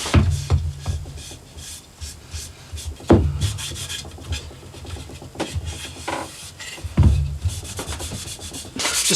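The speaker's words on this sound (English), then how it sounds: "Just sanding it back to take the curse off it." Hand sanding of an amber-sprayed wooden Telecaster guitar body, close-up rhythmic rubbing strokes with scratchy texture and occasional knocks, no talking.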